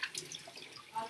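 Tap water running over a soapy dish being rinsed in a kitchen sink, a short steady splash with small drips, close and alone.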